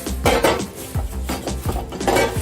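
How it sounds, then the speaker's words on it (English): A metal non-stick tray slides out of an AICOOK 1700W 5.8-quart air fryer, several close metallic clanks and rattles in quick succession. "We'll go ahead and get out the tray here. It's all metal, non-stick."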